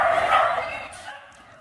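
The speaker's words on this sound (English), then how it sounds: "There's a bunch more dogs in there again" Several dogs bark together at a loud kennel, a dense yapping burst that fades over a second or so, with talk mixed in.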